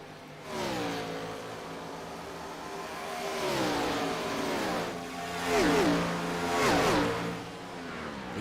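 Scrambler Series race cars battle for the lead on a Texas track, their engines rising and falling in pitch as they rev past, moderately loud and close with no talk.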